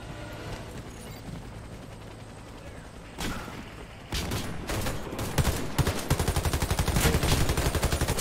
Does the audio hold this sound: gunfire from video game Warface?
yes